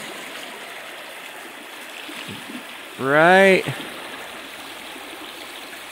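Stream water flows steadily around a log butted against a large boulder, a continuous broadband rush heard up close throughout, with a brief spoken word partway through.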